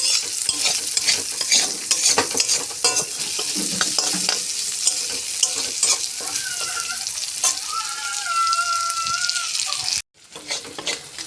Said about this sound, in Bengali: এভাবে হলুদ দিলাম, মরিচ একটু দিলাম, জিরে দিয়ে এটাকে ভালো করে কষিয়ে নেব।